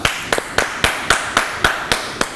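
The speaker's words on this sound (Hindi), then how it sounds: "तालियां।" Studio audience claps in a sparse, even rhythm, about nine sharp separate claps spread over two seconds, moderately loud with no voices over them.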